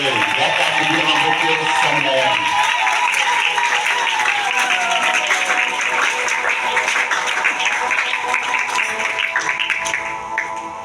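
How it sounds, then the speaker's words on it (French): A church audience breaks into applause and cheering, dense clapping that holds steady at close range before tapering slightly at the end. "Encore une acclamation pour le Seigneur."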